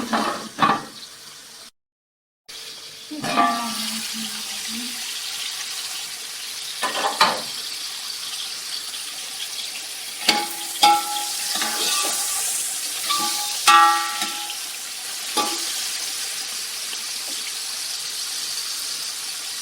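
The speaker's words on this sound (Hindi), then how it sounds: "दो 3 मिनट इसे फ्राई कर लेंगे।" Potato and peas fry in oil in a pan for aloo matar pulao, a steady close sizzle broken by scattered spatters, scraping stirs and a few clinks of a utensil against the pan.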